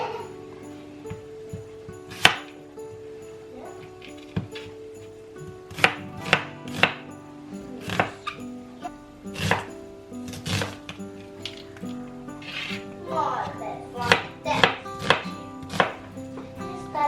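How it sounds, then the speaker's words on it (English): A knife cuts ingredients for a Christmas dish on a cutting board, with sharp, irregular chopping strokes, some louder than others, spread over quiet kitchen background. "I will peel and cut all of this, and then let's saute."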